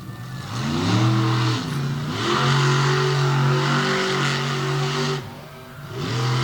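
The Bigfoot monster truck engine roars and revs hard during a freestyle run, pitch climbing and holding in long surges with a brief dip before it winds up again, loud and close with no talk.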